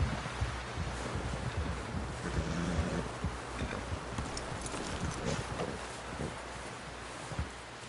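Horse hooves clip-clopping steadily in Red Dead Redemption 2, a continuous patter of hoofbeats over wind and rustling, moderately close with no clear talk.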